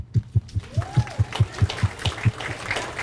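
An audience at a school event, Embracing Our Differences 2013, claps in a steady, evenly spaced rhythm, about five beats a second, close and fairly loud, with no talk over it.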